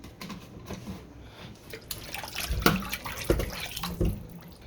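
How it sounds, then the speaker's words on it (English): Water running and splashing as raw meat is washed with vinegar in a home kitchen, with irregular drips and louder splashes midway, close and without talk. "So I use some vinegar, wash them off, get rid of the rawness"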